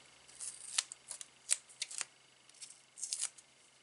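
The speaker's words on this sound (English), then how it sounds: "So yeah, I'd use titanium scissors." Titanium non-stick scissors are handled at a craft table, giving a string of crisp, close metallic clicks and snips in an irregular rhythm, quiet overall, with no talking.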